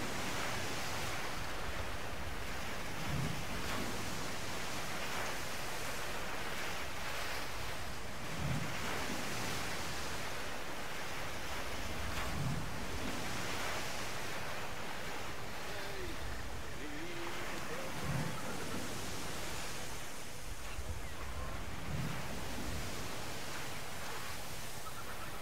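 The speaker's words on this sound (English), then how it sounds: "Waves." Ocean waves in the pirate game Tortuga A Pirate's Tale roll in as a steady hiss of surf, with soft swells rising every few seconds over a constant windy wash.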